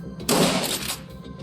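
Shotgun blast in the video game Shadowrun: Dragonfall, a single loud close burst that decays over about half a second amid quiet background.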